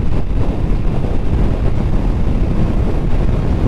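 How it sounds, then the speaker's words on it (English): Strong wind buffets the microphone on a countryside ride, a loud steady low roar filling the whole stretch with no voices. "It sure is windy."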